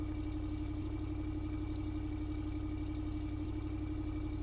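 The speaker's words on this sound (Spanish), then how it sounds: "Se escucha increíble este motor de Ram" A Ram 3500 Heavy Duty truck with a Hemi engine idles steadily nearby, a low, even rumble with a constant hum and no talk over it.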